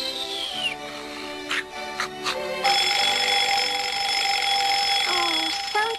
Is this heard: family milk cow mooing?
no